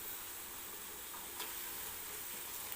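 Chopped coriander tossed into cooked Maggi noodles in a pan after the gas is turned off, giving a steady soft stirring and faint sizzle with no talking.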